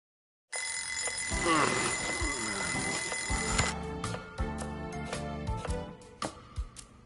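A shrill, continuous alarm clock rings loudly in the Lost Judgment video game for about three seconds, then stops, followed by game music and sound effects.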